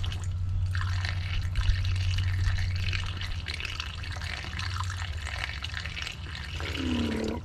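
Green coolant trickles and gurgles into a 2011 Nissan X-Trail radiator through a tiny filler hole, a continuous close splashing pour over a low engine hum.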